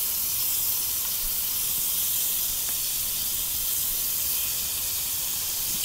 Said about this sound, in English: We're going to saute that in butter.